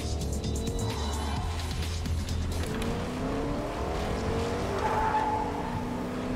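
A video game car engine revs while the tires squeal and skid through long wailing slides, loud and close with steady motor noise underneath, and no one talks.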